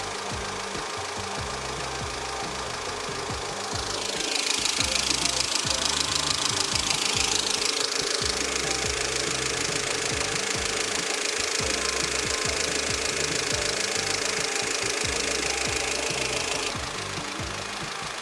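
A cold car engine idles with a steady, rapid rhythmic knocking that swells louder for a stretch, then drops back to a lower rumble.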